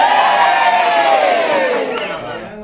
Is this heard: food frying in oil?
no